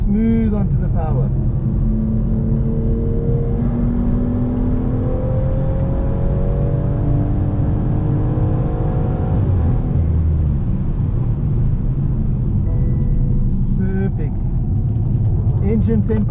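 BMW M240i accelerating onto a straight at Zwartkops Raceway, a loud engine rising steadily in pitch for several seconds, then easing off, with voices talking over it.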